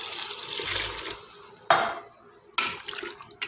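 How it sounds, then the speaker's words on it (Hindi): Water poured from a glass into a pot of chicken and potato curry, with splashing and metallic clinks of the pot and utensils, and two or three sharp knocks between the pours. "अभी इसमें मैं पानी ऐड करेगा 1 गिलास"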